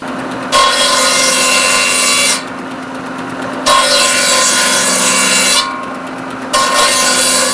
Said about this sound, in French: C'est une scie où il y a une protection et les pointes tombent en dessous.